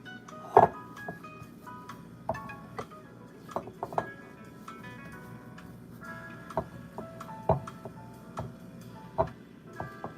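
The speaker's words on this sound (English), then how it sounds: "I'm gonna scrape it to one side so I can scoop it in. Scoop it with my" An ice cream scoop scrapes and scoops pistachio butter cookie dough, making scattered light metallic clicks and clinks at an irregular pace over a quiet kitchen background.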